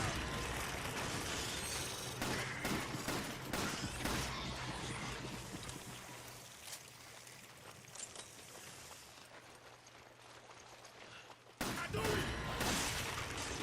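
Gunfire from the video game Resident Evil 5 comes in dense, clattering bursts over a continuous game soundscape, with brief gaps and a sudden loud resumption near the end.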